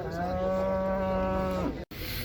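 A pregnant cow lows in one long, loud, sustained moo at an outdoor livestock market in Uzynagash near Almaty, close by, ending just before a brief dropout in the market noise.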